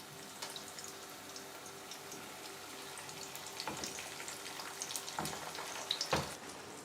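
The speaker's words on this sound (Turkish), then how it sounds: "Sucuğumuzu kızarttıktan sonra yumurtamızı ilave ediyoruz." Eggs fry with sucuk sausage in a hot pan, sizzling steadily with a soft continuous crackle, and a few sharper pops and spatters come near the end.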